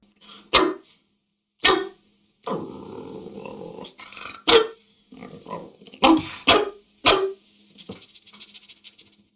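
A voice imitates a dog, giving sharp barks and rough growls in irregular bursts separated by brief silences.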